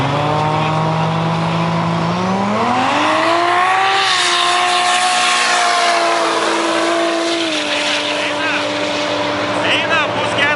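A BMW drag car accelerates hard down the strip at a Lithuanian drag racing championship round in Kazlu Ruda, engine note climbing loudly through gear changes, with a commentator speaking over the roar.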